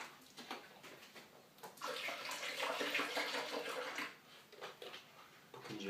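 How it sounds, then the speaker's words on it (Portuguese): Water pours into a blender for a Herbalife shake with soy and grape juice, a steady splashing rush that swells in the middle and then tapers, fairly quiet and close. "Um pouquinho de água."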